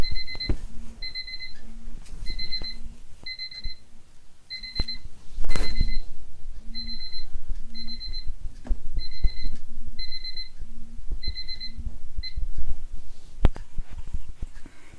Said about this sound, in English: let me turn that timer off